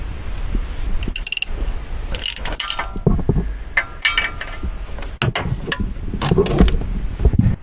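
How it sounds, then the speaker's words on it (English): A ratchet clicks and turns while an oil pan bolt comes out of an 87 GM 454 engine in a P30 RV chassis, with irregular metallic clatter and small knocks up close. "just taking that bolt out"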